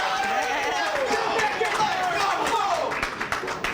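Cheering and clapping from a small group of friends in the front row of a bowling alley after a strike, scattered claps and shouts under a continuous commentator's voice.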